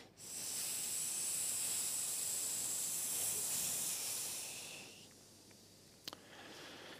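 A long, slow hissing exhale through the mouth during a breathing exercise, close and steady for several seconds before fading, followed by a brief quiet pause and one faint tap.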